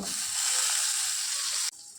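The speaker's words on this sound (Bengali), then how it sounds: "মশলাটা ভালো করেই ভাজা হয়ে গেছে এবার আমি টমেটো কুচিটা দিয়ে দেব" A loud, hissing sizzle as chopped tomato hits hot spiced oil, sustained briefly, then abruptly dropping to a quiet background.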